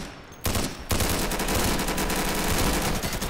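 Gunfire in the video game Insurgency on the District map, a dense, loud, continuous stream of rapid machine-gun shots that starts abruptly after a brief quieter moment and keeps hammering without pause.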